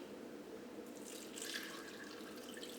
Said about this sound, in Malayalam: ഇനി നമുക്ക് വെള്ളരിക്ക വേവിച്ചെടുക്കാൻ വേണ്ടിയിട്ട് ആവശ്യത്തിന് വെള്ളം ചേർക്കാം